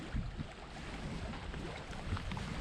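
Strong wind roars steadily across a lake during a canoe trip in Quetico, Canada, with gusty low rumbling buffets on the microphone and a constant broadband rush, no voices.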